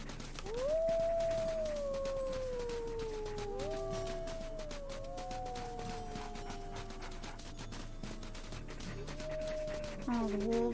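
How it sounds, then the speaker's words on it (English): Several wolves howl in a video game, long rising and falling calls overlapping one after another, with faint ambient game sound beneath and no talk. "Oh, the wolves are howling around us."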